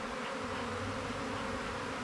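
A dense, continuous buzzing of many bees around a hive, steady and close, with no voices.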